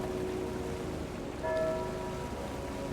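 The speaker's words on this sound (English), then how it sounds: "I hear the church bell" A church bell ringing during a rainy storm in a horror video game, a couple of clear tolls over a steady wash of rain.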